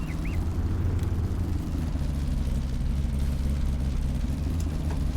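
A truck engine in Farming Simulator 19 runs with a steady, deep low rumble that holds an even, loud drone throughout, with no talking over it.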